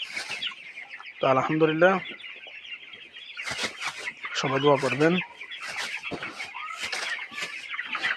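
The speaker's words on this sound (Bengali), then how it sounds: "আমার খামারের সবচেয়ে ছোটো মুরগি" Hens cluck and a rooster calls repeatedly on a small poultry farm, close and fairly loud, over a constant background chorus of birds, while someone talks intermittently.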